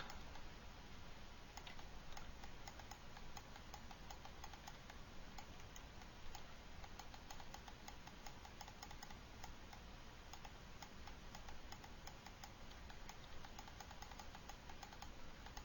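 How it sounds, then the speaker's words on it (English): A computer mouse clicking steadily while sculpting a car model in Maya, giving a quick run of small, quiet ticks over a constant hiss, with no voice. "That's why you hear the mouse kind of clicking like it is."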